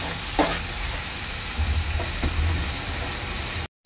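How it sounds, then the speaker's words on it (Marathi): Onions browning in a pan for an egg curry gravy, a steady broad sizzle with a few clear scrapes of a spoon stirring through them, close and fairly loud, with no voices. "कांदा चांगला ब्राऊन होईपर्यंत शिजवून घ्यायचा आहे."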